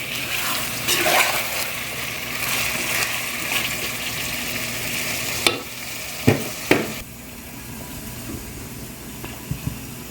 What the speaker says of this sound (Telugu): ఇది కొంచెం బాగా ఫ్రై అవ్వాలి, లేకపోతే నీటి వాసన వస్తుంది